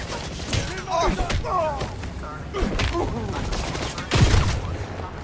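Video game gunfire crackles in bursts of rapid shots and thuds, mixed with shouted voices over the action.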